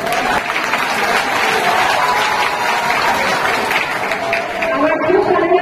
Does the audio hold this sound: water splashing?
no